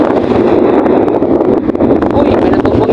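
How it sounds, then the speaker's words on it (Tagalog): Strong seaside wind roars continuously across the microphone at a sea wall in Mulanay, a loud, steady buffeting rush with gusty fluctuations and no pauses. "ang lakas ng hangin"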